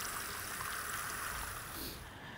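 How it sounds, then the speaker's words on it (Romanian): Water from a hose pours into a pig's stomach to rinse it clean during home butchering, a steady rushing and gurgling flow close by that eases off slightly at the end. "Introducem apă în stomac ca să-l curățăm foarte bine."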